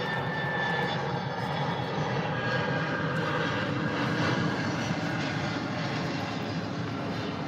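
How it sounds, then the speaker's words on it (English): Airplane flying overhead, a broad continuous engine rumble and roar that stays steady and fairly loud for several seconds with no talking. "Sorry guys, waiting for the plane."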